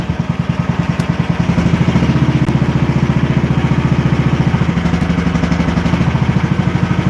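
A cold hydraulic machine's engine idles loudly and close by with a steady, rapid chugging throb, its pitch rising slightly as it settles into a rougher, clattering idle.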